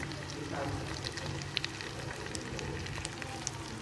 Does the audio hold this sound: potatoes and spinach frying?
yes